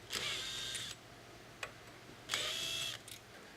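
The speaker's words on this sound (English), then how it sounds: "we're going to take the screws out using a 1/4-inch hex drive" A 1/4-inch hex drive on a power driver backs screws out of a door side stile's corner key, giving two whirring bursts of about a second each with a short gap between, close and clear with no talking.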